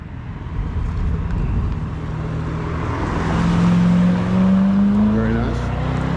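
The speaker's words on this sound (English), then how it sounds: "It looks like we got another canyon carver coming down right now." A car carves down a Malibu canyon road, its engine rising to a louder, revving pass before fading away, heard from the roadside over breezy outdoor noise.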